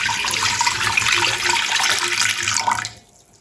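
Lukewarm water poured steadily into a bowl for a simple no-knead bread dough, a continuous close splashing stream that cuts off near the end.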